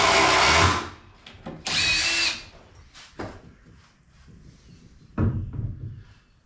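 Cordless power drill driving #10 by 3.5-inch deck screws into wood for a picnic table, heard as two loud whirring bursts of about a second each, followed by quieter clicks, knocks and a third shorter burst near the end.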